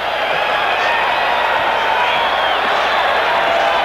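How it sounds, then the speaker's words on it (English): A boxing arena crowd at a 1984 Los Angeles Olympic bantamweight bout roars at the end of a round, a steady loud wash of cheering and noise with no pauses. "The crowd reacting to it,"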